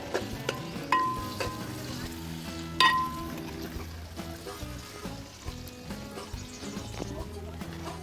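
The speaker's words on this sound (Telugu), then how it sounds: "ఇప్పుడు ఈ వంకాయలు వేసి కొద్దిసేపు నూనెలో మగ్గించుకుందాం" Brinjals soften in hot oil in a pan, giving a steady low sizzle with occasional clinks and scrapes of stirring, plus a couple of sharper metallic taps.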